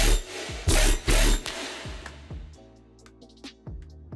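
A heavy deathstep bass synth made in Ableton, without multiband dynamics, lurches through gritty, growling stabs and pitch drops, loud and distorted at first, then thinning into sparser hits.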